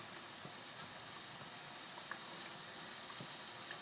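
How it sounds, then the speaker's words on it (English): A pound of ground beef browning in a pan, giving a steady, quiet hiss and sizzle with a few faint crackles, heard alone throughout. "I'll let that saute just a little bit when I'm browning the meat"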